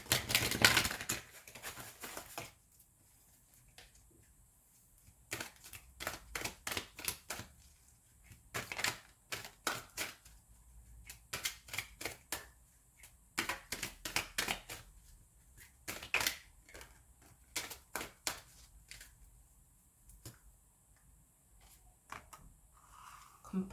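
Angel oracle cards being handled and shuffled for a tarot reading, with rapid bursts of riffling card flutter separated by short quiet gaps, close and fairly crisp.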